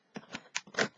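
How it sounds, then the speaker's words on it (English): Scissors snip through a mail-order package, a quiet string of about five crisp, separate cuts spaced irregularly across a second, close by and alone. "So I'm using my scissors now to"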